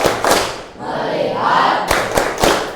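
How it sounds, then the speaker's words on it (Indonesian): A classroom of students performs a rhythmic 'tepuk fokus' clapping routine, with several sharp clap bursts near the start and a run of loud claps toward the end, separated by a lull of crowd-like voices. "Ayo kita tepuk fokus terlebih dahulu."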